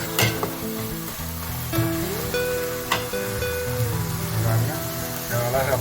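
Steady sizzling of food frying in a pan, with occasional stirring clinks and a soft voice murmuring in the background.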